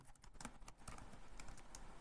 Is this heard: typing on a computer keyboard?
yes